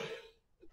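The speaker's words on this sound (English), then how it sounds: "Do excuse the coughing, guys." A single short cough from one person indoors, fairly quiet, with a faint trailing breath after it and no speech.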